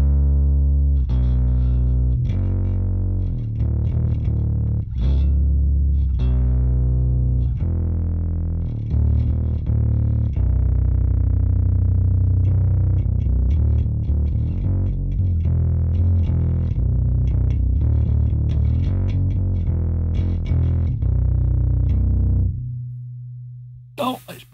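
A heavily distorted bass plays a steady riff of low, gritty notes, loud and sustained throughout, ending with an abrupt cutoff.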